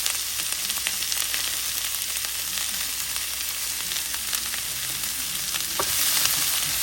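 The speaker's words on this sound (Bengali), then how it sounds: "আমি ঘি দিয়ে ভেজে নিচ্ছি।" Chopped onions fry in ghee in a pan for a curry, giving a steady, close hiss and crackle with occasional soft stirring clicks, no voices over it.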